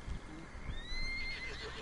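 A horse in Red Dead Redemption 2 on PS4 gives a short, fairly faint whinny, a rising-and-falling neigh over low background rumble and soft hoof sounds.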